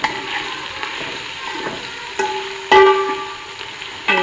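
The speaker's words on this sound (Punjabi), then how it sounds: "ਸਭ ਤੋਂ ਪਹਿਲਾਂ ਲੱਗਿਆ ਜੀ ਕਰੇਲੇ ਫਰਾਈ ਕਰਨ" Sliced bitter gourd (karela) frying in a pan, a steady close sizzle with occasional stirring clatters and sharper sputters, no talking.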